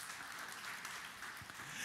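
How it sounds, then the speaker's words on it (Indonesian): A church congregation claps together in steady, broad applause that fills the whole moment, dense and continuous at moderate volume with no voices above it. "Tepuk tangan yang meriah bagi Tuhan Yesus."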